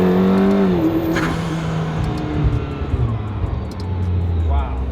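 A McLaren P1 GTR race car engine roars loudly from close by, revving and shifting with rising and falling pitch under acceleration, steady and dominant throughout.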